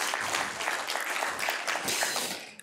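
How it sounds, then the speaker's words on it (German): Audience applause at a book presentation in Murau, steady dense clapping throughout that fades out near the end. "von Ihnen noch einmal einen Applaus"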